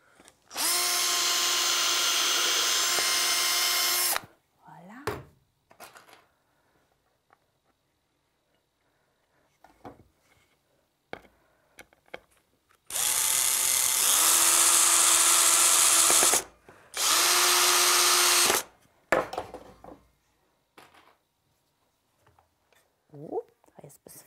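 A power drill driving screws into a wooden bench, loud and close, with a long whirring burst at the start and two more later, separated by quiet stretches of handling noise and light tapping.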